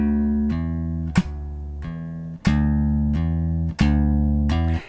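Slap bass groove on electric bass with hammer-ons: a few sustained, ringing notes, each opened by a sharp percussive slap attack that recurs roughly every one to one and a half seconds. Close, clear and alone.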